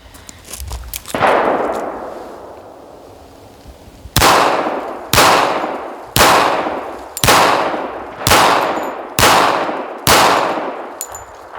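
A Tisas 1911A1 pistol fires hollow point rounds outdoors: eight sharp, loud shots, the first alone and then seven in a steady string about one second apart, each ringing out with a short echo.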